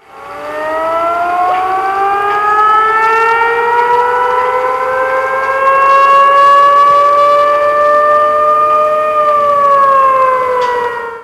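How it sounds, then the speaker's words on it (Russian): A loud civil defense siren in Samara, Russia, sounding during a warning-system test, wails steadily, its rising and falling tone sustained throughout with no other sounds. "почему утром в Самаре звучал вой сирен"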